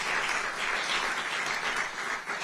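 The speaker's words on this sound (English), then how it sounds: "Shamelessly fishing for applause here." Audience applause at a New Jersey governor's press event, a dense steady patter of clapping from a crowd, fairly loud and continuous with no talk over it.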